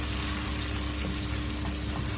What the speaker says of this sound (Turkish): Burada benim soğanımı incene karıştırıyorum.